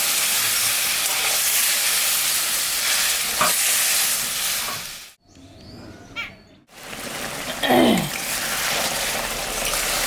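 Mustard and green chilli paste fries loudly in oil with turmeric, a strong, close hiss and sizzle broken by a brief near-silent pause, then a fresh burst as water goes in, with stirring scrapes.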